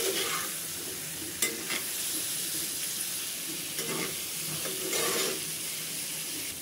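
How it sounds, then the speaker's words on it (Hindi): Spices for a paneer curry frying in a pan, a loud continuous sizzle with a few scraping strokes of stirring breaking through it. "इनको 2 से 3 मिनट भून लेंगे अच्छे से ताकि जो मसाले हमने इसमें डाले हैं अच्छे से कोट हो जाएं"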